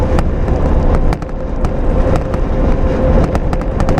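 A vehicle running over an extremely bumpy, long-unpaved road, its body rattling and knocking in loud, irregular jolts above a steady rumbling drone, with no talk.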